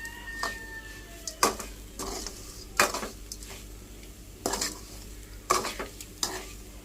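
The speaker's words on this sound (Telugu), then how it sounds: "సిమ్లో పెట్టి ఫ్రై చేసుకోవాలి." Coconut fries on a low flame in a pan, heard as irregular scraping stir strokes with light clinks over a soft, low sizzle, close by and without voices.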